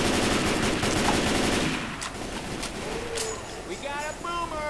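Rapid gunfire in Left 4 Dead 2, a dense stream of shots that thins after the first couple of seconds, with game effects and a voice talking over it.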